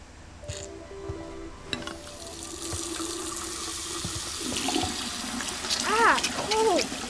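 Water tap running as a character washes hands in the video game Life is Strange 2, a steady close stream of water with a few short tonal game sounds and chirps layered over it near the end.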